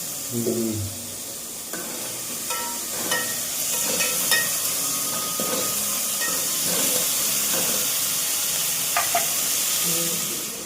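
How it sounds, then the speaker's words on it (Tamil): Tomatoes sautéing in oil for a spicy kara kuzhambu, a steady close sizzle and hiss with occasional stirring scrapes and clinks throughout. "தக்காளி எடுத்து வதக்கிடுங்க."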